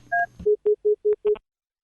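Telephone keypad dialing tones for a call-in to a radio program: a brief dial-tone-like pair at the start, then five clean, evenly spaced beeps, loud and alone.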